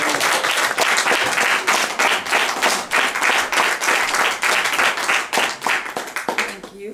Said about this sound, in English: let's give a nice round of applause for Reverend Judy Youngins